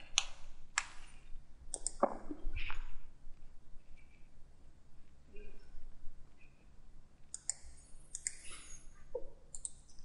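Mouse clicks during 3D CAD modelling in Autodesk Inventor: sharp, close, isolated clicks, some single and some in quick pairs, spread irregularly across a quiet background.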